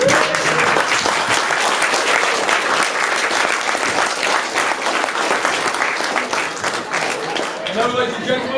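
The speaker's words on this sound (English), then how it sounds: "Big round of applause for your best man" Wedding guests applaud the best man, Morgan, after a toast: dense, sustained clapping from a crowd fills the room at a steady loud level, with voices mixed in and the applause thinning slightly near the end.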